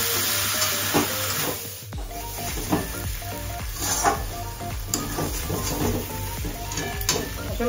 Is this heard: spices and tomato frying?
yes